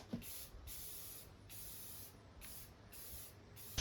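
Rust-Oleum crystal clear enamel hisses from a spray can in four or five short bursts, each a steady high-pitched spray lasting about half a second with quiet gaps between, close and fairly soft.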